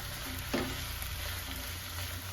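Spring onion curry stirred in a pan on the stove, a soft continuous sizzle and bubbling with one brief scrape of the spoon, faint and close, with no voices.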